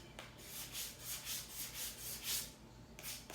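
Sandpaper rubs back and forth along the edges of a painted and waxed wooden banner in steady, even strokes, close and fairly quiet, with a short pause near the end.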